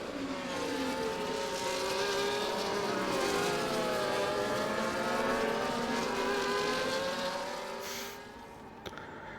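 F1 cars circling Imola under the safety car in the F1 24 racing game, a steady layered engine drone with several overlapping pitches sliding up and down, loud and continuous, dropping away near the end.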